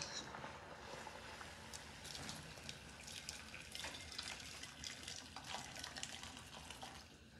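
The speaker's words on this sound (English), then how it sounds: "Boiling water." Boiling water for making gari from granulated cassava in a home kitchen gives a steady, close, broadband watery rush with small splashes throughout, with no talking.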